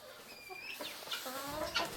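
Guinea fowl calling on a farm in spring, a few harsh, rising squawks and clucks at moderate distance over about two seconds.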